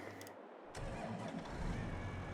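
A tractor in Farming Simulator 22 cranks over and catches, then settles into a low, steady idle rumble close by, heard alone without talk.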